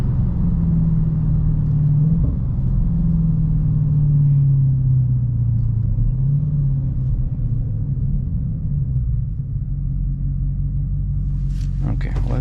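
A 2022 Dodge Challenger Hellcat with 717 HP runs a test pull in automatic, its engine a loud, low, continuous rumble heard from inside the cabin, rising and easing slightly, with a driver talking over it.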